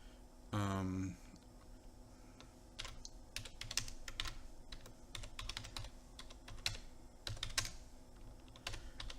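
Computer keyboard typing, quick irregular clicks and bursts of keystrokes, close and moderately loud, with a short tonal sound near the start and no talking.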